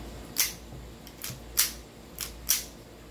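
Five sharp, crisp metal-on-metal clicks from an airsoft gun mechanism, close up and irregularly spaced, with no talking.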